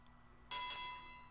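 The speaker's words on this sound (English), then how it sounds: "there's the bell, and the first round has begun" A single bright bell strike opens the first round of a fight in a video game. It rings out clearly and decays over about a second against a quiet background.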